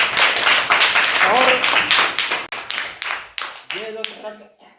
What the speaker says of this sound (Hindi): बहुत ताली बजाओ भाई सब बच्चों इसके लिए।